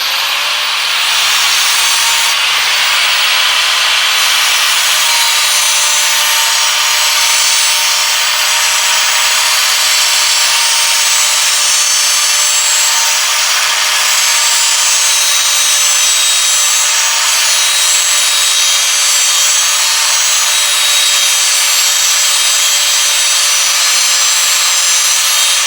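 A valve cover stud being cut by hand: a steady, loud, continuous rasping and grinding of metal with a faint whine, no talking, running without a break.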